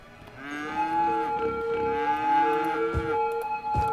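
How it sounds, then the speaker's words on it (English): Cattle lowing in the city-building game Cities Skylines, a long sustained moo with a steady drawn-out tone and another overlapping moo, loud and close. "Shush cows."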